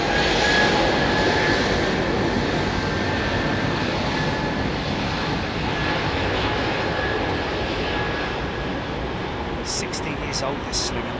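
Airbus A380 jet engines roar loudly and steadily at Heathrow, a broad sustained rumble with a high whine that holds throughout, and a few brief sharper sounds near the end.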